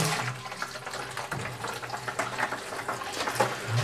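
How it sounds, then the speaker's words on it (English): Hot water splashing and rinsing inside a home brew fermenter, a steady running gush with scattered splashes throughout, near and alone. "I just get hot water and try and get as much off with hot water as I can."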